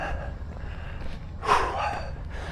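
A hiker carrying a weighted pack breathes heavily on a hot, switchbacking uphill climb. The breaths come close to the microphone as a couple of rough gasps and exhales, the strongest near the middle, over a faint background.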